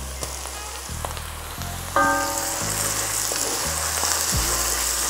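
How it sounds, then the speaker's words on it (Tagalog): Garlic sautéing in a pan for a beef kaldereta, a loud, continuous close sizzle that swells and holds steady with a soft hiss, heard alone over faint background music. "Igisa lang natin to saglit, mga 1 minuto lang."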